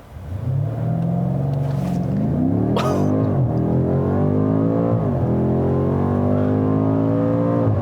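A 2018 BMW M5 launches hard with launch control and traction control off, its engine roaring loud and close as it climbs steadily through the revs with brief dips at each upshift.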